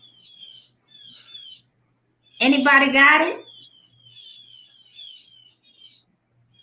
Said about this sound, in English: I hear your birds.